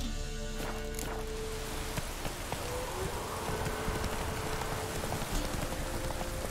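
Steady rain in the video game The Witcher 3 at night, a dense continuous patter that fills the scene, with faint hoof-like clip-clops and footsteps mixed in and no talk.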